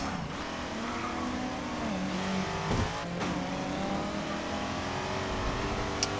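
Race car engine in the Grid 2 racing game revving hard and sustained, with pitch sweeps as gears shift, a brief tire squeal midway, continuous and loud throughout.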